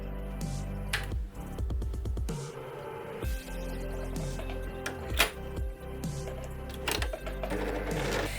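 Sewing machine stitching knit fabric, its motor whirring in short bursts with pauses between runs, close and fairly loud, no speech.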